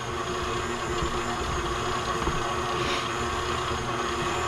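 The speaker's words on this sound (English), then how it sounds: "You can hear how the engine is like, man, but I really want to go up one more gear." A stand mixer's motor runs steadily and strains while kneading pizza dough at medium speed, a constant close hum and whine with no speech over it.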